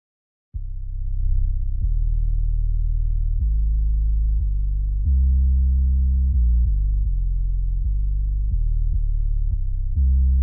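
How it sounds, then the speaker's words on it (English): A Musical Sampling Medusa sine-wave synth patch plays a legato bass line, deep smooth tones gliding from note to note in a steady sequence, layered and beefy, heard alone and clearly up front. "it sounds like a sine wave, but it feels like it's layered in with something else to make it even beefier."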